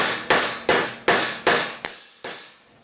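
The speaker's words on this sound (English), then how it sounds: "all you do, you just give the end a little tap, tap, tap around." Sharp metallic hammer taps on the end of a bolt held tight in a vise, six or seven evenly spaced, loud, close strikes each ringing briefly before the next, fading after the last.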